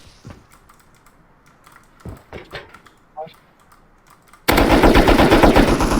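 Automatic gunfire from the video game Rust, first a few scattered shots with faint clicks, then a sustained loud burst of rapid fire dominating the final seconds.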